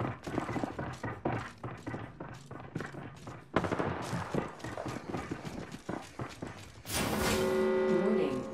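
Gunfire in the battle royale game Apex Legends, dense bursts of rapid shots in irregular clusters, loud and close, ending in a swelling whooshing noise, with no talk.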